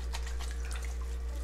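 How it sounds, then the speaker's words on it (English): Tap water running into a kitchen sink and wetting a washcloth, a steady close splashing stream with bright dribbling spatter over a low constant hum, no talking. "Then I get this wet, get my washcloth wet"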